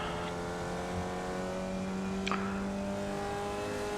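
A Formula Vee race car engine in the iRacing sim drones steadily at full throttle on the Oschersleben circuit, a continuous buzzing tone heard alone and at a moderate, even level.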